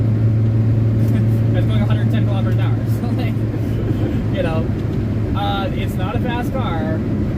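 A 1978 Honda Civic cruises in fourth gear, its engine a steady low drone with wind and road noise underneath, while someone talks over it throughout.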